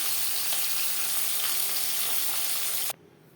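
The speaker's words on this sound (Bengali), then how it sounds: "পরের মাছ একইভাবে ভেজে নেব।" Pabda fish crackle and sizzle in hot oil in a pan, a constant close frying hiss that cuts off abruptly just before the end.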